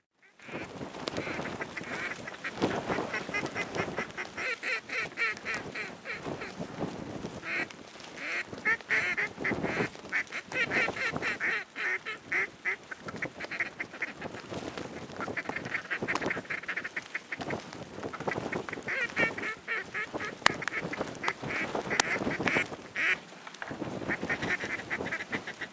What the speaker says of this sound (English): More ducks behind us.